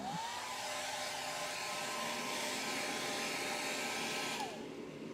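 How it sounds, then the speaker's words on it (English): A hair dryer blows with a constant whirring hum for several seconds, close up, before its pitch drops as it switches off. "I'm just going to take my hair dryer real quick."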